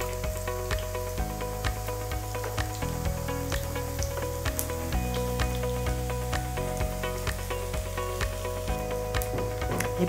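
Food fries for Christmas tapas, a steady close sizzle of hot oil that runs continuously with crackling pops, alongside a background of music.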